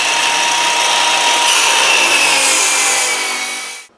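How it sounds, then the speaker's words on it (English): A small battery-powered circular saw cuts through rough lumber, a loud, steady high-pitched whine with a rising bite midway through the cut, then spinning down and stopping abruptly at the end. "I've just got a small battery-powered circular saw."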